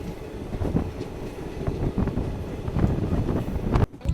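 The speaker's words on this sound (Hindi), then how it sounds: "बिल्कुल कर्व पे हमारी ट्रेन चल रही है" A passenger train runs along a curved track beside a lake in India at night, a steady loud rumble of wheels and carriages with wind buffeting, continuous throughout with a brief dip near the end.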